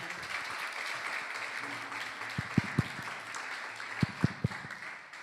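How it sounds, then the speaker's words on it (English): Audience applause at a Rath Yatra gathering in Austin: a steady wash of clapping with a few sharper nearby claps standing out, continuing for several seconds without voices. "Let's give a round of applause for Prabhupada Prema."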